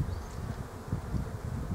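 Honeybees buzz around an opened hive during spring expansion work in a bee yard, a steady low droning hum that swells slightly in waves, close and continuous with no talking.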